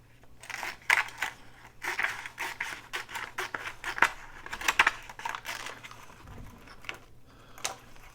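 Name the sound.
trimming the side of the Kleenex box cover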